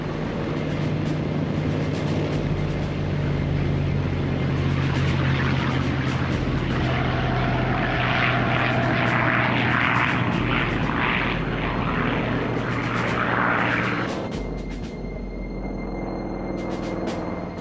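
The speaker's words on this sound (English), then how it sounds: "the first wave of Japanese aircraft took off" Japanese propeller aircraft taking off: a continuous, loud engine drone with a steady low hum, swelling slightly in the middle and easing toward the end, with no voices.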